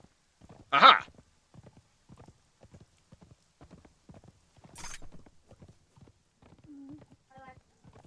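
Horse hooves in Conan Exiles clop in a steady, evenly spaced rhythm, moderately close, while a louder burst and a few other game sounds break in over the walking beat.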